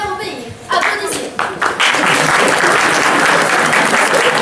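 A theatre audience breaks into loud, dense applause that swells and continues steadily, with a voice briefly heard at the start.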